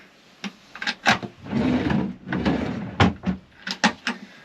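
Big drawers in a Jayco Starcraft 15.48-3 Bushpack caravan kitchen slide open and shut, several sharp wooden knocks and bumps with two longer rolling slides between them, close and fairly loud with no talk.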